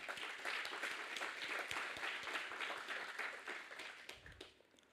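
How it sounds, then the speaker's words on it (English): Audience applause at a Malaysian regional startup competition finals, a dense wash of many hands clapping steadily, then thinning and fading toward the end. "let's give them a big round of applause"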